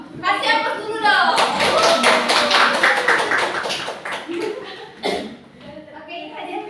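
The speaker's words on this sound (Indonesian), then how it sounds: "Kasih aplaus dulu dong" Applause breaks out in a classroom as a class cheers prize-winning students, a burst of scattered, fairly close clapping that fades toward the end while kids' voices chatter and call out over it.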